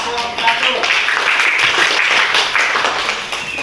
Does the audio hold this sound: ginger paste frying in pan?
no